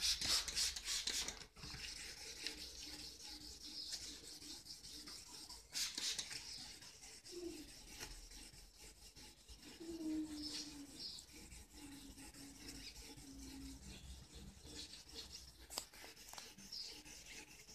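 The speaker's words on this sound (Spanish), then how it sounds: "tiene que levantar brillo cuando lo van lijando" Steady rasping rub of sandpaper working by hand over new paint on a Honda CG 125 motorcycle, continuous and close, with faint background tones and brief knocks.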